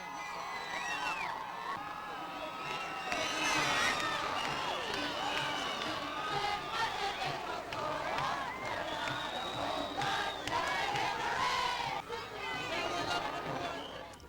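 A huge crowd fills the streets at the Minnesota Twins' 1987 World Series victory parade in the Twin Cities, a loud steady babble of many voices with whoops and shouts rising throughout.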